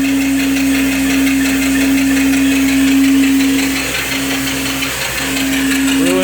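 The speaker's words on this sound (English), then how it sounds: "And the engine's spinning at 200 RPM." Mill steam engine with a flyball governor running steadily at about 200 RPM, driving an alternator by pulley; a strong constant hum with rhythmic mechanical knocking, loud and continuous throughout.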